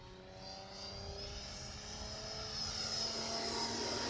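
A 90mm electric ducted fan RC jet makes a low fly-by, its steady whooshing whine growing slightly louder as it passes at close range with no talk.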